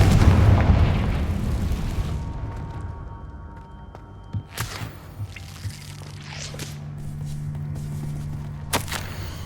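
A Confringo fire spell in Hogwarts Legacy: a heavy rumbling blast opens, then decays into scattered debris pops and thuds with a couple of sharp impacts later.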